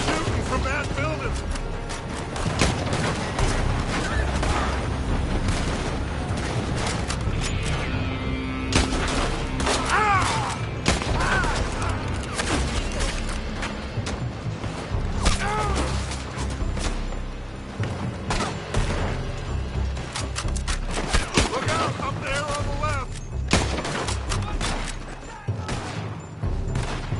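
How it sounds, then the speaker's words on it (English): Gunfire in a dramatic shootout comes from a building, steady volleys and booms under shouted voices and tense background sound. "They're shooting from that building!"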